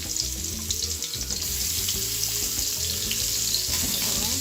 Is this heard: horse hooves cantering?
no